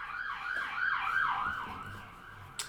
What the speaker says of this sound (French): Les ambulances passent. Je sais pas si vous l'entendez.